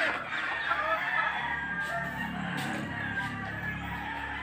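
Chickens cluck and a rooster crows nearby, a few overlapping calls over steady background noise, with no talking.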